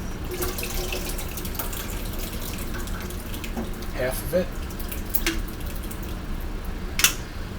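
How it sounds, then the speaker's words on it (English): Sleep well stew is poured from a pot into a frying pan with a soft, continuous wet splashing and gurgling, under a brief spoken remark and a few small clinks. "let's go ahead and pour our sleep well stew."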